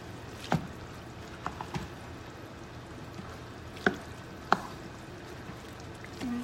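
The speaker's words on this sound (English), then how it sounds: "we're gonna mix all of this up with our lovely teak spoon" A teak spoon mixing food in a bowl, giving a few sharp knocks and scrapes spaced apart over a quiet background, with no voices.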